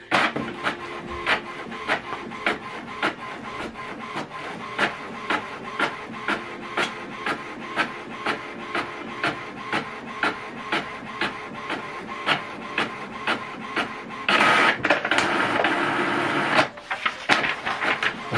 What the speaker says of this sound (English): Right now is printing network configuration.